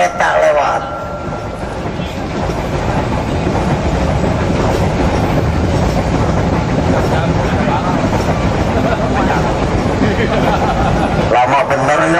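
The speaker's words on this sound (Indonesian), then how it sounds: "Tunggu yang lewat ini sejenak, iklan kereta lewat." A long train rolling past close by, a loud continuous rumble with steady clickety-clack of wheels on the rails that holds for the whole stretch, with faint voices in the background.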